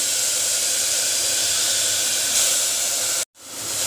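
Steady loud hiss of steam as marinated water lily stems go into a hot pressure cooker, continuing nearly four seconds before cutting off abruptly, then a faint return.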